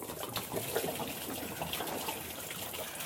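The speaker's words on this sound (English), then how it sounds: "5 gallons is approximately enough to fill up this tote to the level that we want it to be" Reverse osmosis water pours steadily into a hydroponics tote for deep water culture, a continuous close splashing gush that runs unbroken throughout.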